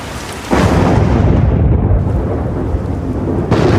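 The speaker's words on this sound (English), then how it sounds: "When the rains eventually come, they come down hard." A heavy downpour in Zoo Tycoon 2 roars in suddenly after a quieter start, a dense, steady wash of rain with deep rumbling underneath, loud and close throughout.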